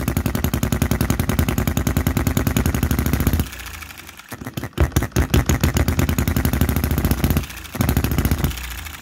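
A Chinese-made Enjomor hit-and-miss model engine running with its governor working. Rapid, loud popping firing strokes are broken by quieter coasting stretches, then sharp, irregular bursts of firing resume as the engine cycles.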